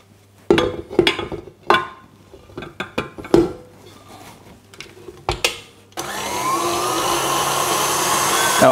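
A stand mixer whips a chocolate tart filling in its bowl like whipped cream, first with scattered knocks and clatters of handling, then a loud, steady motor whir that continues to the end.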